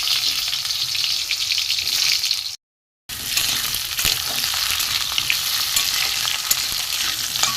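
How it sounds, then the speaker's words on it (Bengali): Potatoes fry in oil left in the pan from frying pointed gourd, a close, busy sizzle with stirring scrapes. The sound cuts out briefly in the middle, then returns just as strong. "এবার ওই যা তেল আছে আলুগুলো আমি ভেজে নেব।"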